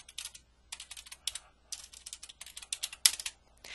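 Rapid bursts of typing on a computer keyboard, keys clicking in quick irregular runs separated by short pauses, close and alone with no voices.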